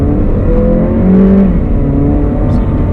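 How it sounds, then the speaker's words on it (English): A turbocharged performance car's engine revs hard and pulls with traction control switched off, a loud sustained drone that climbs in pitch, heard from inside the cabin. "This engine loves to rev, and it inspires a lot of confidence."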